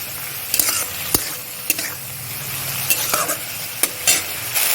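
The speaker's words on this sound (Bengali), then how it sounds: "আমি শাকটা দিয়ে আরেকবার ভালো করে কষিয়ে নেব" Leafy punka greens stir-fried in a pan with ginger and green chili, a steady close sizzle broken by sharp clacks and scrapes of a spatula against the pan, with no voices.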